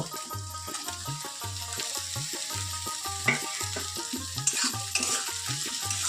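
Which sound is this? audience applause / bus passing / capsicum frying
capsicum frying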